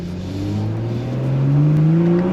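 BMW M340i fitted with an M Performance exhaust revs up, its engine note climbing steadily in pitch and loudness over a couple of seconds, close and alone with no talking.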